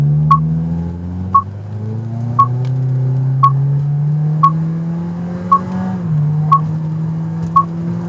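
A 2017 Toyota Corolla SE in Sport mode accelerates from 0 to 60 mph. The engine drone climbs steadily and dips at a gear change, while soft evenly spaced ticks repeat about once a second throughout.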